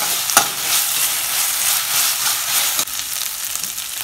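Ginger-garlic and chopped curry leaves sizzle steadily as they are sautéed in an iron pan, a continuous frying hiss with one sharp scrape of a spatula near the start and another near the end.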